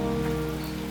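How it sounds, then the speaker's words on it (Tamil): Steady rain drumming on a surface during a drive through the Javadhu hills, a dense even patter over a low constant hum. "ஒரு வழியா அப்படியே மழை கொஞ்சம் கொஞ்சமா ஸ்லோ ஆகி"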